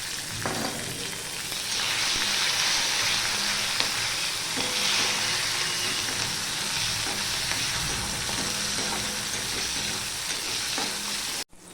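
Tomato and green chilli fry in a pan over a low gas flame with a steady, close sizzle and occasional stirring scrapes, continuing alone without talk.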